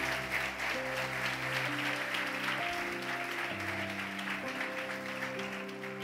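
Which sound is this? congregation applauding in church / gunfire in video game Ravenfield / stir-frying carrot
congregation applauding in church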